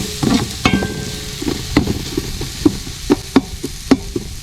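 Tomatoes with salt are stirred in a frying pan, giving a soft sizzle under repeated close scraping and tapping strokes of a spoon at a steady rhythm.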